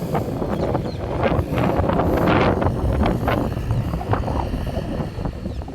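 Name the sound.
wind blowing in open countryside field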